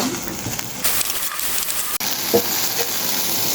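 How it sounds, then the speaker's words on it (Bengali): Potatoes and vegetables sautéing in a pan for a home-cooked fish dish: a steady soft sizzle and crackle, with brief bursts of louder frying and occasional stirring clatter, close by and without talk. "আমি এখন আলুগুলো দিয়ে দিচ্ছি। আমি এই সবজিটাকে একটু কষিয়ে নিব।"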